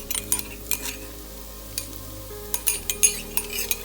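Freshly ground ginger garlic paste sizzles in a pan with turmeric while a utensil stirs it, with repeated scraping clinks of metal on the pan over a steady frying hiss.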